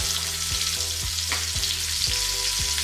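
Small sweet potatoes sizzle steadily in a frying pan, a continuous close crackle of frying with soft periodic scraping or stirring knocks, no voices.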